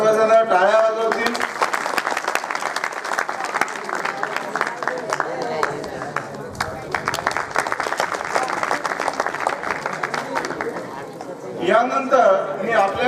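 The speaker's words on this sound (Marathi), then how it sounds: "सर्वजण टाळ्या वाजवतील." An audience at a school batch reunion applauds for the chief guest: dense, sustained clapping from a sizeable crowd that fades slightly near the end, with a voice speaking over it.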